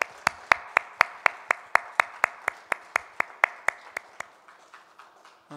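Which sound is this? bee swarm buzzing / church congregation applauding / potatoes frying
church congregation applauding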